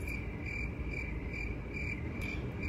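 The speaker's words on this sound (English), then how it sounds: "Cue the crickets." Crickets chirp in steady pulsing bursts, a high continuous trill over a low background hum, with no talking.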